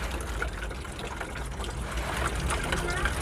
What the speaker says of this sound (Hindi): तो पानी जो है हिलाते रहना है।